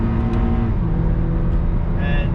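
Inside a Honda Accord CU2 with a K24 engine, the engine revs smoothly in second gear in sport mode, a steady, subdued cabin drone that rises in pitch, with a shift-like drop partway through.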